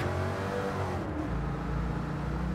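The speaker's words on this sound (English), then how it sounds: "lovely, lovely noise coming out of these collective exhaust pipes" A Škoda race car's engine and collective exhaust pipes in Gran Turismo roar in a steady, fairly quiet drone that shifts in pitch midway, with no speech.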